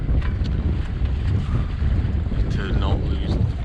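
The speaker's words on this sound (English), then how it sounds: "So we're going to leave the engine on for a little bit" A sailboat's engine runs steadily while under way at sea, a constant low rumble mixed with heavy wind buffeting and the wash of water against the hull.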